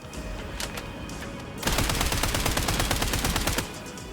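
A quiet background gives way to a loud, rapid burst of shotgun fire in the video game Phantom Fury lasting about two seconds, then the shooting stops abruptly.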